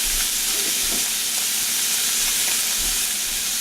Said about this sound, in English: the gizzard is minced. We'll get this all browned up together